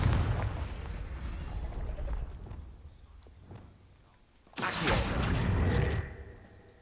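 A Confringo fire spell cast in the Hogwarts Legacy video game bursts out as a loud, noisy blast midway through, following a stretch of dull rumbling ambience and softer thuds.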